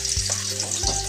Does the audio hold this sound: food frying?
yes